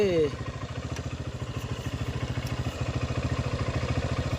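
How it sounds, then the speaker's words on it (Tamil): Honda Hornet 160 motorcycle with about 53,000 km on it running steadily, its single-cylinder engine and silencer giving a close, even pulsing putter throughout. "அதுக்கப்புறம் சைலன்சர்லேயும் கொஞ்சம் சவுண்டு வருது"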